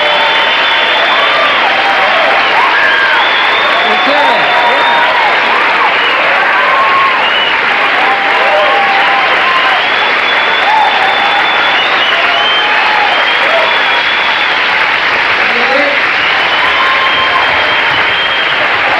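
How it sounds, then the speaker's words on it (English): A TV studio audience at a young comedians special gives a long, loud round of applause with cheering and whoops, sustained and dense from start to finish. "bring them all back here for one great big round of applause from fantastic"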